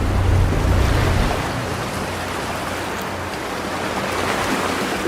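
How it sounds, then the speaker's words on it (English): Surf washes steadily over a rocky shoreline with a calm boat floating offshore. The water makes a broad, continuous hiss and rush, close and fairly loud, with a low rumble that eases after the first second and no talking. "The surf washes over his legs."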